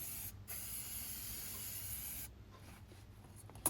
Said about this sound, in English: I put the metal discs in a plastic tray and give them a spray brake cleaner